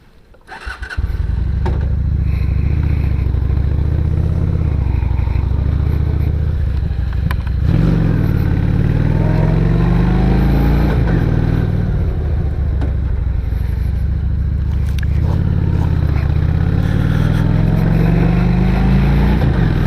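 A 2003 Honda VT750 Shadow Spirit, a 750 cruiser motorcycle with chain drive, runs steadily and close by, its loud, throbbing engine note continuing throughout with a few gentle swells in revs and no talking.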